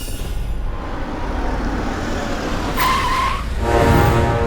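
A car in a Hindi TV crime drama skids, with tire squeal rising near the end of a steady engine and traffic rumble, loud and close, with no talk over it.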